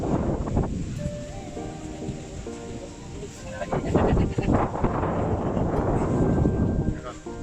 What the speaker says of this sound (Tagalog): So napaka-hangin.